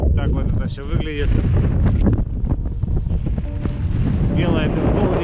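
Strong wind roars across open, flat ice with no pressure ridges, a steady loud rush buffeting the microphone throughout, with a voice faintly mixed in.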